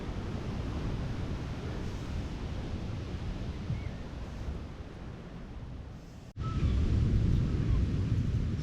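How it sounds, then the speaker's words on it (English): Sea waves washing onto the shore at a Hastings wild camp, a constant broad rushing roar close by with slow swells and a sudden louder surge near the end. "with the sound of the waves and the salty air"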